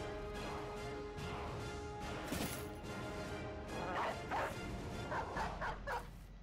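War dogs in the Battle Brothers video game bark and yelp in bursts amid clashing battle effects, several quick barks clustering toward the end over a constant game backdrop.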